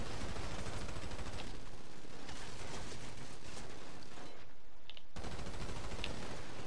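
Rapid gunfire from a shootout in GTA V Online, dense bursts of shots crackling almost continuously, with a brief lull near the end before the firing resumes loudly.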